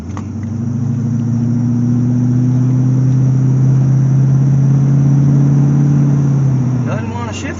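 A 1984 C4 Corvette engine revs hard while driving and holds a high, steady droning pitch for several seconds without shifting, loud and close, then winds down at the end as a voice begins speaking.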